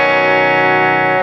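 A sustained, bright chord from a Fender Stratocaster on its bridge pickup rings out with a slightly distorted, twangy edge, held steady before fading at the end.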